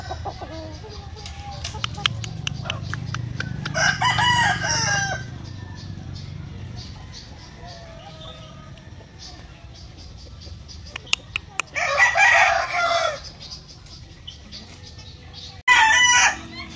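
Asil gamefowl roosters on a farm crow several times, loud and close, in separate bursts with quieter clucking and farmyard noise in between. Someone talks at points.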